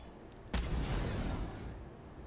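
Brimstone's molly incendiary launched in the shooter Valorant: one sharp, loud thump, then a fizzing whoosh that trails off over about a second and a half.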